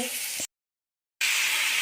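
Food frying in a pan gives a steady, fairly loud sizzle that cuts out to complete silence for a moment, then returns just as dense.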